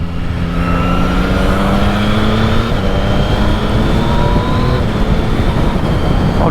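Yamaha XSR900GP motorcycle, with an MT-09-derived engine, revving hard and climbing through quickshifter gear changes, with rising engine tones that drop at each shift, loud and continuous over wind rush.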